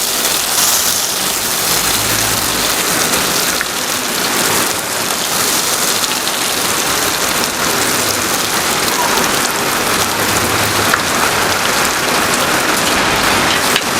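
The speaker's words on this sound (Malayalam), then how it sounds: "പുറത്ത് അതിശക്തമായ കാറ്റും മഴയാണ്." Heavy rain pours outside in strong wind, a dense constant roar of drops on surfaces that stays loud and even throughout with no voices.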